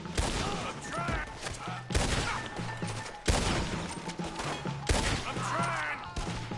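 A Red Dead Redemption 2 shootout at a wagon, with four sharp, loud gunshots spaced roughly a second or more apart, each followed by a short rumbling tail, under game chatter and ambient noise.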